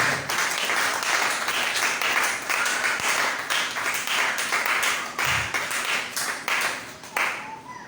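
Applause and clapping from a church congregation during a French-language sermon, sustained and dense across the whole stretch, fairly loud and close.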